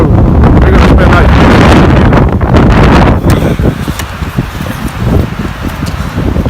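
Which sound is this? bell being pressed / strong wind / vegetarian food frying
strong wind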